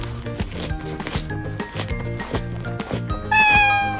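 Several hungry street cats meow and caterwaul close by in repeated overlapping cries, with a higher, sharper wail rising at the end, loud and without talking.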